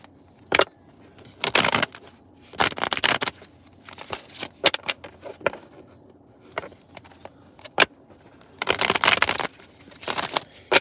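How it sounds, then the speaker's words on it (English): Tarot cards are riffled and shuffled in repeated quick bursts, crisp and close, with short pauses and light handling noise between shuffles. "I'm going to shuffle these cards up"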